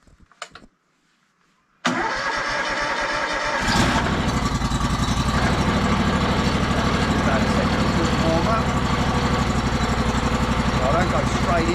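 A portable sawmill engine cranks and catches after a quiet moment, then settles into a loud, steady close idle that runs on alone.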